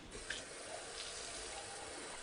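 A can of water is poured into a pot of rice for Goan coconut rice, giving a steady, quiet splashing flow that continues evenly for about two seconds with no voices.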